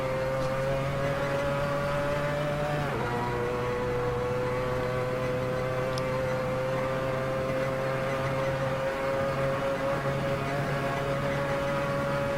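Mazda 787B Le Mans race car in a racing video game, its engine holding a high, steady howling tone at around 8,300–8,500 rpm with a brief dip during a gear change, loud and continuous.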